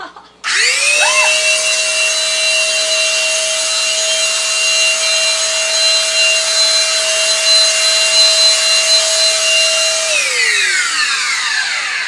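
An electric paint sprayer coats a dining room chair: a loud, steady motor whine with a broad airy hiss starts abruptly, holds evenly for about ten seconds, then winds down.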